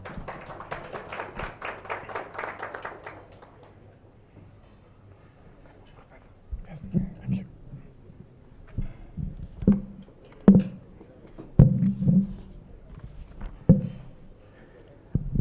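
An audience at a Kenyan election-observation event claps briefly and densely as a professor walks in, then the applause fades into sparse thumps, taps and footsteps in a quiet hall.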